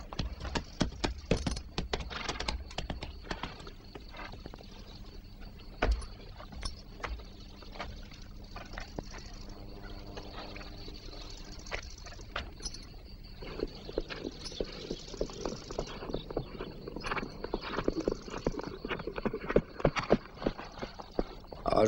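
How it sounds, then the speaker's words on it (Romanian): Horse hooves clip-clop steadily and close by for about twenty seconds, with a brief whinny in the mix and a busier, denser stretch of hoofbeats toward the end. "Necheza de cal."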